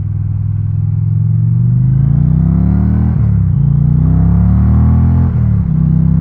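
2022 Indian Challenger Dark Horse motorcycle engine pulling hard in a loud, deep, continuous rumble, climbing in pitch through two gear changes up close.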